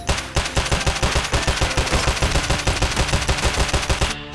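Rapid automatic gunfire blind-fired over cover in the shooter game Escape from Tarkov, a loud continuous burst of evenly spaced shots rattling for about four seconds before stopping abruptly.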